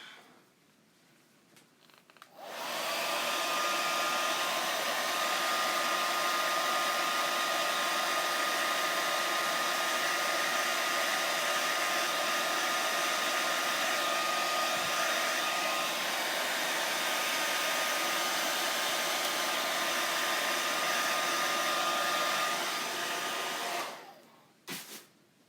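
A hair dryer blows steadily and loudly for about twenty seconds to dry a shadow box craft, starting abruptly after a quiet moment and cutting off near the end.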